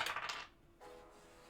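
Dice clatter briefly through a dice tower during a tabletop game, a quick rattling burst that fades into a light settling tail, quiet and close with no talk.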